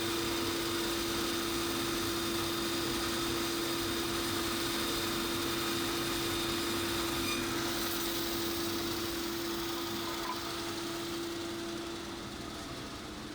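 Steady mechanical hum of a saw running in a woodworking shop, used for cutting double bass ribs, a constant tonal drone held alone throughout with slight fading near the end.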